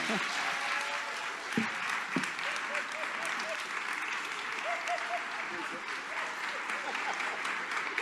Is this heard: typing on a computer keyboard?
no